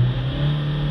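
A diesel car engine running with a faulty, hard-to-diagnose problem, a steady low drone holding at raised revs, loud and close with no talk over it.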